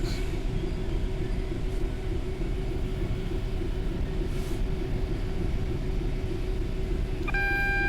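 A DRS Class 66 diesel freight locomotive crawls through a railway tunnel in Kent, giving a loud, steady, enclosed low rumble, and near the end a short cab warning tone sounds.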